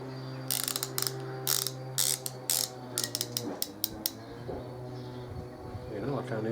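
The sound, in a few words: ratchet tightening motorcycle pulley bolts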